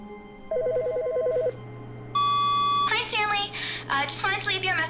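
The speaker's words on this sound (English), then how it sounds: "Wait, the phone's ringing." A telephone in The Stanley Parable rings in bursts of warbling electronic tones, then a sustained beep, followed by a recorded voice message speaking over it, close and clear.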